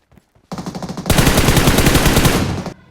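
Rapid automatic gunfire in the mobile shooter BGMI, a loud sustained burst of fast repeated shots that grows heavier partway through and then cuts off abruptly, with no voices over it.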